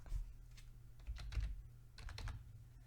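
Faint computer keyboard typing while entering a texture search in the Hammer world editor for Portal 2: a few short bursts of soft, close key taps with low background hum, no talk.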